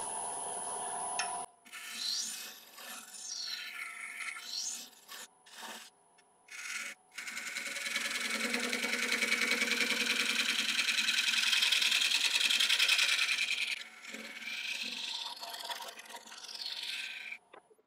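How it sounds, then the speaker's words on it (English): A skew chisel used as a negative-rake scraper rasps against a natural live-edge wooden bowl spinning on a lathe, coming in several passes broken by short pauses, then a long continuous scrape over the motor's hum, no talking. "I said I was just using the skew as a negative rake scraper"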